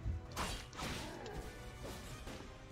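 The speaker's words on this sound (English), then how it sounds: "You hear the swipe, but then off screen. It's rocks. Okay, it's rocks hitting the ground." Faint, muffled crashes and thuds of rocks striking the ground in a video game, several scattered impacts over a low rumbling background, no voices.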